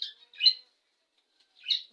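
Budgerigars chirping in two or three short, bright, close calls separated by brief silence, clear against a quiet background.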